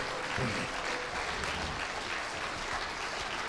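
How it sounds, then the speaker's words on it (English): A school band concert audience applauds for the Logan City School District, steady clapping heard at a distance and fairly faint, continuing throughout. "So give a round of applause to Logan City School District for making some music something to do."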